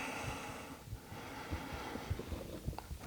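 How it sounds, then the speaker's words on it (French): Slow deep breaths through the nose during a yoga session, soft airy inhales and exhales repeating close to the microphone with no talking. "On respire profondément."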